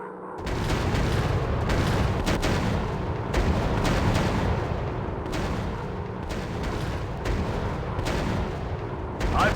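Rockets fire from a warplane in the World War II dogfight game Warplanes: WW2 Dog Fight, producing a dense stream of loud, rumbling blasts and booms that repeat in uneven bursts throughout.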